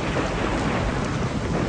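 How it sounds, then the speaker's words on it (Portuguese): Heavy rain pours during a storm with a deep, rumbling thunder wash beneath, a dense and loud continuous roar without speech. "É melhor vocês dois saírem da chuva."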